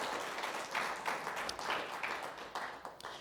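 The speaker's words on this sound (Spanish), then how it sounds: "Dele una fuerte ofrenda de palmas al Señor porque Él es bueno." A crowd applauds steadily, a dense wash of clapping that swells and holds for a few seconds without pause.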